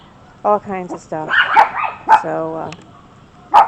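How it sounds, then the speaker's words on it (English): Dogs in a backyard garden bark and yip in several sharp, close bursts with a whimpering note, mixed with someone talking. "excuse the dogs there"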